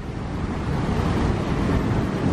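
Strong wind buffets the microphone at Niagara Falls on a wet, blustery day, a steady broadband roar mixed with the distant rush of water and no talking.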